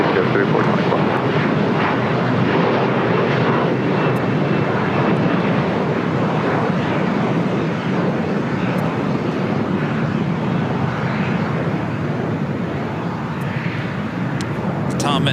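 An American Airlines Boeing 787-8 Dreamliner rolls along the runway at LAX with a loud, broad engine roar that lasts throughout, while a voice talks over it.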